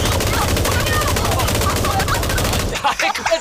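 Rapid automatic gunfire in PUBG rattles in a loud, steady stream of close shots, cutting off near the end as excited voices chatter over the fight.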